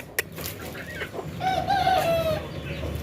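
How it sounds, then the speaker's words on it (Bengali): Chickens being let out in the morning, with a sharp knock at the start, then brief clucks and a clear drawn-out squawking call close by over a low background hum. "ভাবতেছি বাসায় গিয়ে মুরগিগুলোকে একটু ছেড়ে দিই।"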